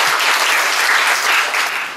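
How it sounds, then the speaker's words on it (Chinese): A hall audience at a community forum breaks into loud, dense applause to welcome a speaker, a steady wash of clapping for about two seconds that starts to fade at the end. "请大家掌声欢迎"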